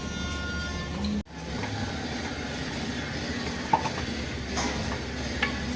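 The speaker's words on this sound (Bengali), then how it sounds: "এটা এই নেড়ে নেড়ে কমে যাবে" Hilsa fish and taro cooking in a pan give off a steady, close sizzle with scraping stir strokes, broken by a brief silence near the start and a few sharper clinks later.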